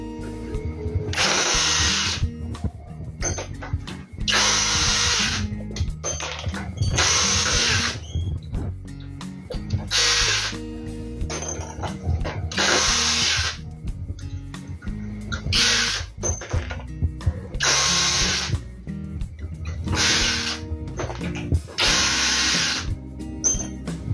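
A DeWalt 12V brushless drill driver whirs in repeated bursts, roughly ten high-pitched spins of a few seconds each, loud and close, separated by short pauses and low handling noise, with no speech.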